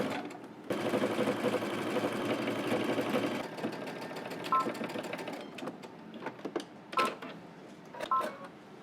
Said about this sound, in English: We're gonna stitch, starting on one side, going all the way across to the other end.